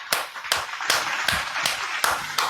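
Rhythmic hand clapping keeps an even beat, with about seven sharp, fairly loud claps spaced evenly and no voices over them.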